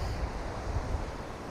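Steady wind gusting across a beach, mixed with the wash of surf on the shore, a continuous broadband roar with no pauses or voices.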